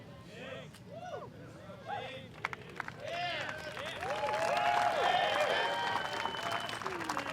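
Spectators at the 2021 Disc Golf World Championships clap and cheer after a shot, applause swelling and holding near the end while commentators talk over it and faint bird calls sound in the background.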